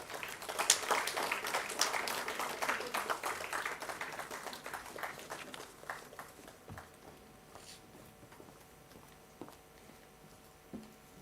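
An audience at a science-fest award ceremony in Goa gives a round of applause, a dense burst of clapping that thins out after about five seconds into a few scattered late claps over quiet room tone.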